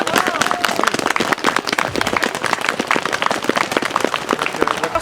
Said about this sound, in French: fait que je vous demanderais de l'applaudir